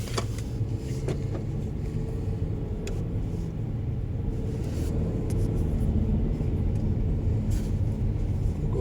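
A car cruises past meadows in Germany's Black Forest. The interior carries a constant low engine and road rumble, steady and fairly loud, with a few faint clicks and no talking.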